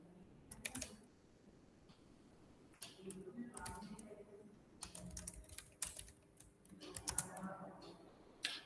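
Fingers type on a computer keyboard in a lab setting, irregular bursts of quick clicky keystrokes with pauses between, fairly faint and close, over low room noise.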